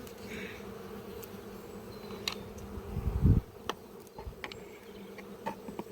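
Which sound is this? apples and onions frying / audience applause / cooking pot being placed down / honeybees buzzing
honeybees buzzing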